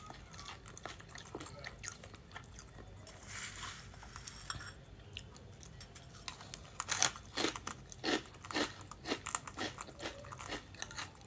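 A green parrot crunches and chews food up close: soft nibbling at first, then a run of sharp, irregular crunching bites that grow louder and more frequent toward the end.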